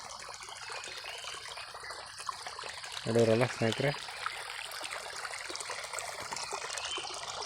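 Irrigation water trickles and flows steadily into a farm field in the background while someone speaks briefly partway through.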